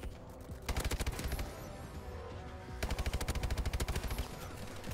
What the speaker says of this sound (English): This MP40 kind of shreds.